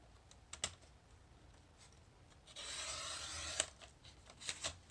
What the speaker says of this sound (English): So let's cut off just a little bit more here.